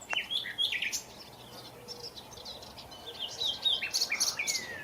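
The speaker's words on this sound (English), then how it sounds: "A very small bird that is also present in the area is the short-toed tree creeper." Small songbirds in Spain, a short-toed treecreeper or great tit, give high, thin chirps and brief trills at moderate distance, scattered through a quiet outdoor backdrop with no talking.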